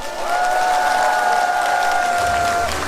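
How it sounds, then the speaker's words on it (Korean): A crowd applauds the North Chungcheong provincial governor at an outdoor Yeongdong county citizens' day ceremony held in the rain. The clapping is steady and fairly loud throughout, with a sustained tonal hum running beneath it. "다시 한 번 김경원 충청북 도지사님께 큰 박수 보내주시기 바랍니다"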